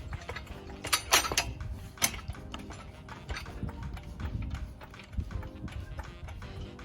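Repeated mechanical clicks and metallic ratcheting from pumping the handle of a 300 lb ATV and lawn mower lift jack, fairly close, in uneven strokes with a few sharper clanks.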